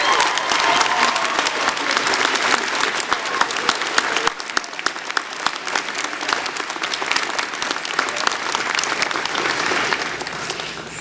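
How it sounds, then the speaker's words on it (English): Sustained, dense applause from a large convocation audience honouring faculty on stage at a university graduation ceremony, steady and loud throughout with no talking. "how about a big round of applause for the faculty on stage for all their support?"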